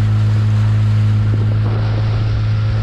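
Small outboard-powered mini motorboat idling slowly toward a dock against the wind, a steady low engine drone with wind and water noise throughout, no talking.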